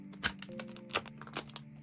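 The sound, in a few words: plastic vinyl wrapping being torn open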